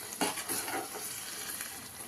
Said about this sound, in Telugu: మధ్య మధ్యలో మనము పచ్చడి కలుపుకుంటూ ఆయిల్ మొత్తం మనకి సపరేట్ అయిన దాకా ఇలా ఫ్రై చేసుకుంటుండాలి